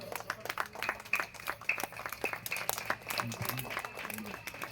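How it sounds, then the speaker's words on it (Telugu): A crowd claps as a guest is honoured at a gathering, scattered uneven hand claps close by, mixed with talking voices in the background. "ప్రశాంత్ అన్నని సన్మానిస్తుండగా చప్పట్లతో."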